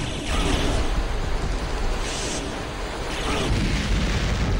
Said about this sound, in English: the nuke, it fires off an explosion that petrifies all enemies and then causes them to explode